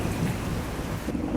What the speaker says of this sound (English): and another thunder clap.